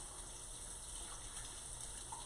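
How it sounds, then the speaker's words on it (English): Tap water running steadily in a home kitchen as hands are rinsed, a soft continuous gush close by with no talk over it. "let me rinse my hands"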